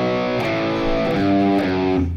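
Distorted electric guitar plays a descending walk-down riff, thick sustained chords stepping down in a few changes, loud and alone with no talk.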